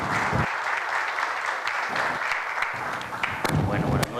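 A seated audience at a telecommunications panel applauds for an engineer after his introduction, with dense, steady clapping from many hands throughout and a few sharper claps standing out near the end.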